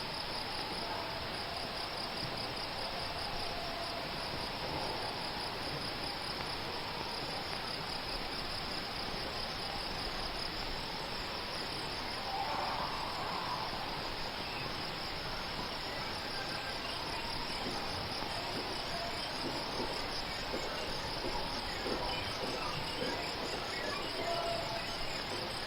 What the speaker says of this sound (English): These insects